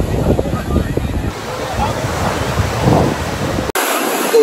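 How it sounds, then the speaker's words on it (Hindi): Sea waves and a strong current at a beach, a loud, steady surf roar with wind buffeting the microphone, cutting off abruptly near the end; a voice can be heard over it. "जो यहाँ के समुद्र में जो लहरें हैं, जो करंट है वो बहुत ही ज़्यादा है"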